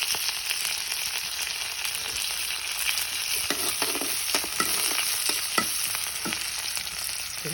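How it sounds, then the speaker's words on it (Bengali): Chopped onions hit hot oil in a home kitchen pan as okra fry gets started: a steady, close, dense sizzle with scattered clicks and scrapes of stirring throughout. "তেল দিয়ে দিলেন, এখন আমি পেঁয়াজ দিয়ে দিব।"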